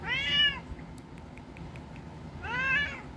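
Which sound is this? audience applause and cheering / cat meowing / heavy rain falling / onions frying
cat meowing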